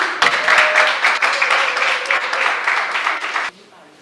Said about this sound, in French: On s'applaudit s'il vous plaît, on s'applaudit